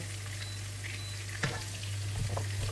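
Onions sizzle in a pan for sarsiadong tilapia with a steady soft crackle under a low hum, and a stir or utensil knock is heard midway.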